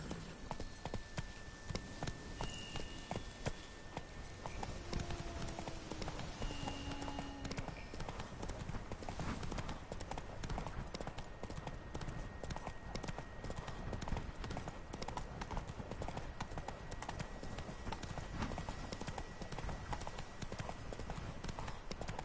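Roach the horse gallops in The Witcher 3, a rapid, continuous clip-clop of hooves that holds a steady rhythm for the whole stretch, with faint music tones drifting above.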